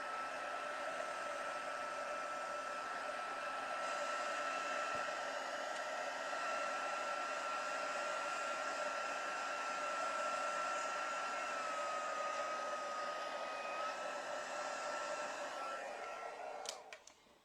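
Hair dryer blowing continuously at close range, a loud steady whooshing roar with a high whine that holds for many seconds before cutting off near the end.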